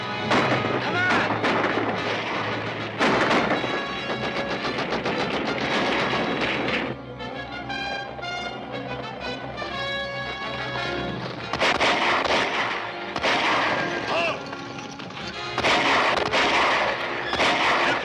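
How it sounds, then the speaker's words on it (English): Loud, continuous bursts of gunfire and blasts, rapid cracks layered over one another, easing briefly before intensifying again. "Gunfire."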